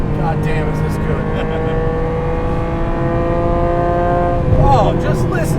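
A 1991 Ferrari Testarossa's flat engine drones steadily from inside the moving car, its strong harmonic note holding even before rising into a brief rev near the end.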